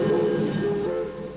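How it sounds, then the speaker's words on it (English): A passing train on the L&N line, drawn by a modern engine, rumbles and rolls steadily with tonal wheel and engine hum, close and loud for the whole moment. "Finally, you could hear the train a-comin'"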